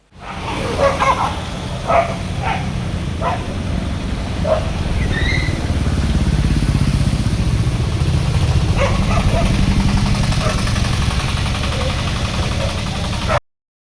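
Several stray dogs bark in scattered bursts on a road, lunging at two-wheelers, over a steady idling motorbike engine, with faint voices nearby.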